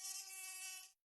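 Cartoon mosquito buzzing in an animated comedy: a single thin, high-pitched whine, close and steady for just under a second before it fades out quickly, with nothing else around it.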